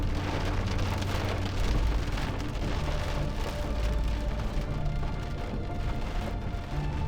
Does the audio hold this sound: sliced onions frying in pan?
no